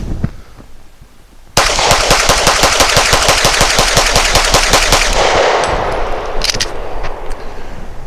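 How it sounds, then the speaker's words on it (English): A Canik TP9 Elite pistol fires Fiocchi 115 grain ball ammo at an outdoor range in a fast string of about twenty sharp, loud shots at an even rapid rhythm, followed by ringing echo and faint metallic clinks. "Let's see how quickly I can shoot this."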